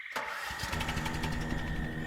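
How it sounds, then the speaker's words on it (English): Stomp Chomp Roar airboat engines catch and start up after a brief quiet instant, settling into a loud, steady mechanical drone with a rapid rhythmic pulse and a high whine layered on top, with nobody talking. "it's time to start up the engines of our Stomp Chomp Roar airboat"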